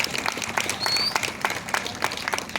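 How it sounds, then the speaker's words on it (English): Applause from the crowd at a victims and survivors memorial event for its organizer, a moderate patter of clapping with some louder individual claps standing out, no voices. "Please, man, a big round of applause"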